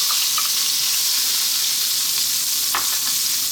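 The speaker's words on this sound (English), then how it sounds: "We're getting that nice and hot, and what we're going to do is we're going to drop in our onion" Onion sizzles loudly in hot oil on high heat for five-spice pork belly, a steady close hiss of frying with a brief clatter near the end, no voices.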